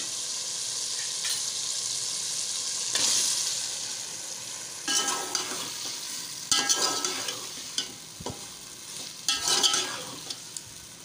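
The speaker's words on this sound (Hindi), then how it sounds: "मसाला हमारा भुन चुका है, टमाटर गल गए। अब हम इसमें डालेंगे अरबियाँ।" Chunks of taro (arbi) are stirred into a cooked-down tomato masala frying in a pan, with a steady sizzle broken by bursts of wet scraping and clanking stirs that come louder toward the end.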